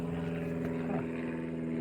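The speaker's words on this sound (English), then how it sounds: "airplane going by." A propeller airplane flies overhead outdoors, a loud steady drone with a low hum that swells slightly near the middle of the clip and holds throughout, with no talk.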